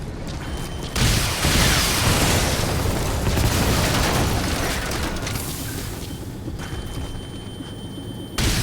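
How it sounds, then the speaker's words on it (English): Rockets launched and exploding in the Metal Gear Solid V game, a heavy booming blast followed by a long rolling rumble of explosions and debris, loud and dense, with a second sharp burst at the end. "They're really gonna shoot rockets at these poor fools."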